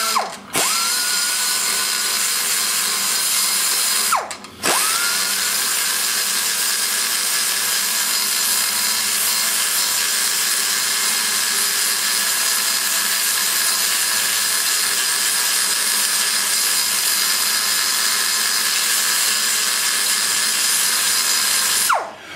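A rotary burr grinding and porting the cylinder head of a 1989 350 TBI engine, a loud, close, high-pitched whine held for long stretches with two brief stops where the tool spins down and back up.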